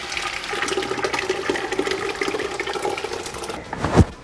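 A tomato sauce mixture with garlic powder and onion powder is poured into a pot, giving a continuous close gurgling, splashing flow that ends in a brief heavier plop.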